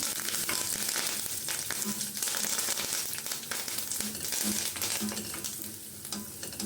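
Garlic sautés in hot oil for an Andhra-style gongura (sorrel leaf) thokku. A loud, continuous crackling sizzle fills the whole stretch, broken by frequent stirring and scraping in the pan, with no talking.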